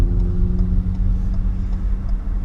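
A car pulls away in first gear during a driving lesson, its engine a steady low drone with faint road noise, no talk over it.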